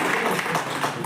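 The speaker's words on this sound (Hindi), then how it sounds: "तो इसके लिए तो आप लोग हम लोग के लिए ताली बजा दीजिए" Brief burst of audience applause at an exporters association gathering, dense steady clapping from a crowd, short and even throughout.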